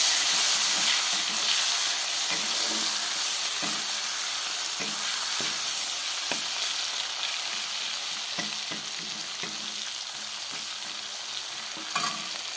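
Dried fish (shutki) frying in a hot pan gives a loud continuous sizzle and hiss close by, with repeated scraping stir strokes that gradually settle.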